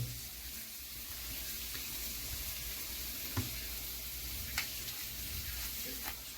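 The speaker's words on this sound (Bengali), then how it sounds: "লো ফ্লেমে আমি এটাকে ভেজে নিচ্ছি" Masala spices sizzle gently and continuously in a pan on a low flame for a Bengali omelette curry, with a faint steady hiss and a few soft clicks, close by with no talking.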